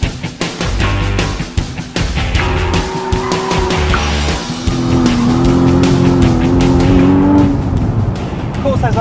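Porsche 911 (991) and Boxster S driven hard on a racetrack circuit, loud continuous engine roar with rising revs and tire squeal, under someone talking throughout.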